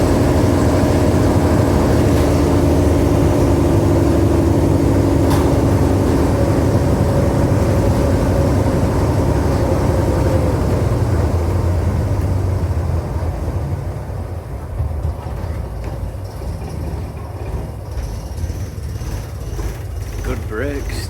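Inside a vintage Daimler Fleetline or Crossley bus, a loud, continuous engine drone and road rumble fill the cabin, easing slightly toward the end as the bus seems to slow, with voices talking over it.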